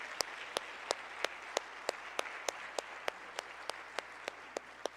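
Audience at a Black history talk claps in a faint, steady, evenly spaced rhythm, each sharp clap distinct and quiet.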